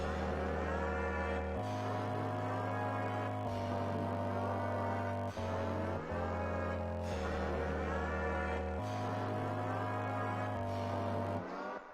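A cow's moo sampled and played as a deep synth bass, loud sustained low notes changing pitch in a repeating pattern under a bright musical backing, with no voices.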